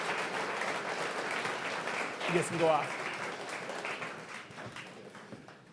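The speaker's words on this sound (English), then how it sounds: "How about a round of applause for these guys?" Applause from an audience at a commercial industry conference session, a steady wash of clapping that swells briefly mid-clip and then fades, with someone talking over it.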